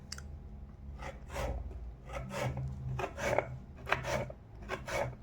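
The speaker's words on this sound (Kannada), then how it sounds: "ಜೂಲಿಯನ್ಸಲ್ಲಿ ಕಟ್ ಮಾಡ್ಕೋಬೇಕು." A potato being sliced into thin julienne strips with a knife on a board, a run of short, fairly close scraping cuts in an uneven rhythm, with no talking.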